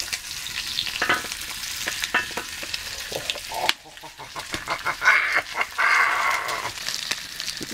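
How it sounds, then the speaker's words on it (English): Bacon frying on a homemade wood stove built from car wheel hubs and steel, a steady close sizzle and crackle with occasional scraping, under intermittent nearby talk. "You can have bacon in a minute when it's cooked."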